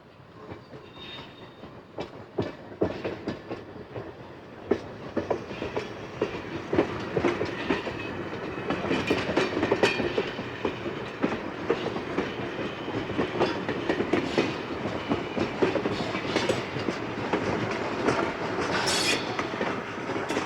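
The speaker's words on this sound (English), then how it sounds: "Listen to the sound of this engine." A train rolls past with heavy rumbling, rhythmic clickety-clack of wheels over rail joints, and occasional metallic squeals, growing louder as it goes by.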